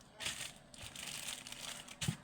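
A plastic bag is handled and crinkled while a food mixture is placed inside it for a recipe, giving close, continuous rustling with a few sharper crackles.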